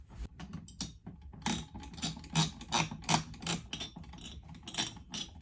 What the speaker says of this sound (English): I just have to tighten up the bolts